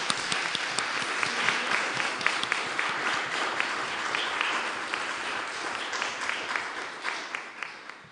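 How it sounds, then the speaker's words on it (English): Audience at a public debate on musicians breaks into sustained applause, a broad, even roar of many hands that thins toward the end into a few separate, sharper claps. "I would like to ask you to give them a big applause"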